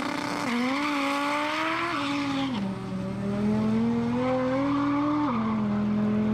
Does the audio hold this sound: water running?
no